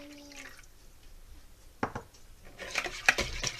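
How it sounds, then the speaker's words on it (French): Donut batter of warm milk and eggs being mixed in a bowl, quiet at first, then wet sloshing and utensil clinks against the bowl building in the final seconds. "Je vais mélanger."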